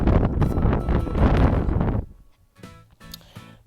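Outdoor wind buffeting a microphone on a path near mountains, heavy rumbling gusts for about two seconds, then dropping to quieter scattered rustles and light knocks.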